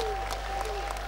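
An audience claps in brief, steady applause after a speech at a formal event, the sound dense and continuous throughout the short moment.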